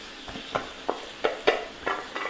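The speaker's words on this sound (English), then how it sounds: "just drop it right in there. And you can hear that beautiful noise that they make." Lamb chops sizzle in a hot pan with olive oil, giving sharp bursts of crackle about every third of a second over a soft steady hiss, close and moderately loud.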